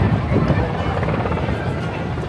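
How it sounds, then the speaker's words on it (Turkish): A helicopter drones overhead at the TEKNOFEST 2025 air show with a continuous rotor thrum and whooshing wash, loud and steady throughout. "Helikopteri hala havada."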